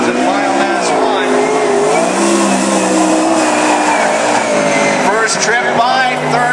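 A race car engine roars past at close range during a qualifying lap at Cottage Grove, loud and sustained with rising and falling pitch, while an announcer talks over it.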